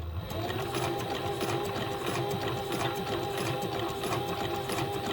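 A servo-motor sewing machine stitches through five layers of vinyl at a limited speed, a loud close steady whirring drone with fast rhythmic needle clatter running continuously.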